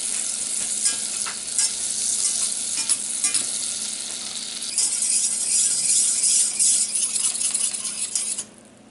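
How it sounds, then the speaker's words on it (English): Sweetener and heavy whipping cream bubble and sizzle steadily in a pan on the stove as they cook down into a keto caramel, a dense continuous frying hiss that swells midway and cuts off sharply at the end. "we're going to just let this melt and cook until it gets a nice brown caramel color."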